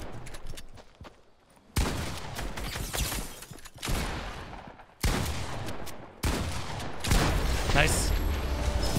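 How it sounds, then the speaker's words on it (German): Heavy sniper rifle shots in the video game Fortnite land as several sharp, loud cracks a few seconds apart, mixed with game noise and excited talking. "Da, also die Heavy Sniper Shots."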